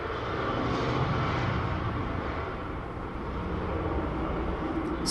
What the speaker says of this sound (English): Excuse the plane taking off in the background.